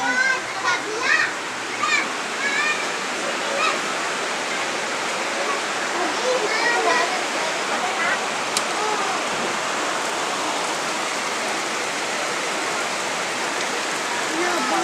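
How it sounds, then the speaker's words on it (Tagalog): Heavy typhoon rain pours down as a dense, steady roar at a flooding house. Faint speech and a few brief sounds come early on, under the downpour. "sobrang lakas ng ulan"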